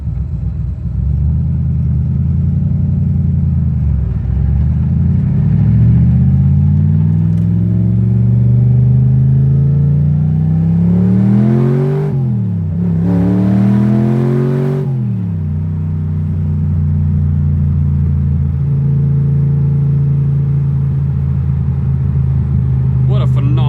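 A Shelby Daytona Coupe accelerates hard through several gears, its engine note climbing and dropping with each shift, loud and close from inside the car.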